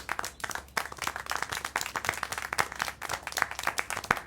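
Scattered video game applause from a small group in Syberia: The World Before, irregular claps rising and falling in a quick patter, fairly close and moderately quiet, with no talking.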